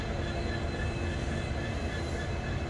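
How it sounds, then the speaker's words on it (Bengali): Sairang–Kolkata Express with brand-new LHB coaches rolling into Badarpur station, a loud, close, steady rumble of wheels on rails with no talk. "সাইরাং কলকাতা এক্সপ্রেস বদরপুরে প্রবেশ করছে।"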